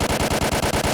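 Rapid automatic gunfire from a shooter game set in the Chernobyl zone, a dense burst of evenly spaced shots about ten per second, loud and close with no talk.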